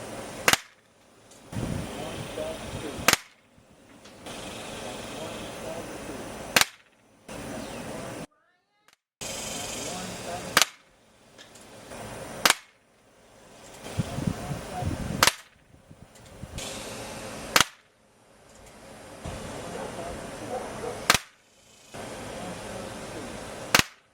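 A Crosman 2240 CO2 air pistol fires about ten sharp, loud cracks at irregular intervals of a few seconds, with low background noise and some talking between shots.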